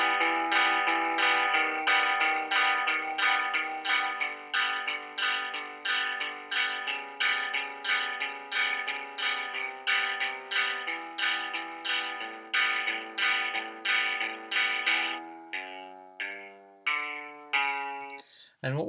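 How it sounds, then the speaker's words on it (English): Electric guitar notes played steadily with a washy reverb tail, fading out unevenly near the end with sparse, ringing final notes. "we're going to notice that we'll get the dry signal, and we're going to notice that we'll get the reverb as well"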